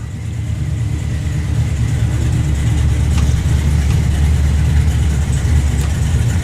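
A turbocharged Volvo street drag car, around 2500 horsepower, idles at a drag strip with a deep, steady rumble that holds a constant loud burble close by, no revving or voices over it.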